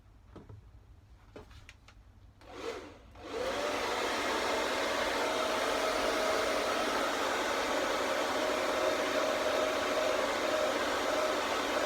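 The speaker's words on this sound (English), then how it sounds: "the good thing about using a hairdryer as well" After a few clicks and a brief whoosh, a hair dryer switches on and blows steadily with a loud, continuous airy roar.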